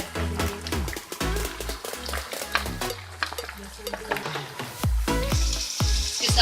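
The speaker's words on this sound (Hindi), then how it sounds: "अब हम इसको थोड़ा सा चलाएंगे ताकि अदरक लहसुन का पेस्ट भी मिक्स हो जाए" Ginger-garlic paste frying in a pan and stirred with a spoon, dense sizzling crackle with clattering spoon scrapes and knocks against the pan, busy and fairly loud throughout.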